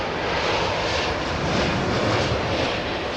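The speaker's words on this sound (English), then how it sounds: "The number two engine will go into hotel mode." An ATR turboprop airliner's engine running at London Heathrow Airport, a steady broadband roar with a low rumble, loud and close, with no voices over it.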